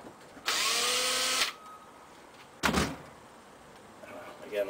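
Power drill driving a screw into a tray of a Dixie Narco bottle rack system, one steady whirring burst of about a second, then a brief clunk, with quiet pauses between.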